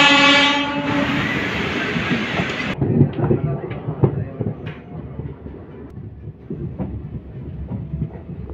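A DMU passenger train waits at a station, its horn blaring loudly for a few seconds before the diesel engine idles with rhythmic clatter and mechanical knocks.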